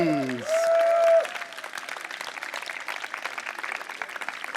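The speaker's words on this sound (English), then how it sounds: "Ladies and gentlemen, one more nice round of applause." Audience at a hackathon closing ceremony in London applauding, a dense patter of clapping that follows a brief cheer and tone at the start and then carries on steadily at moderate level.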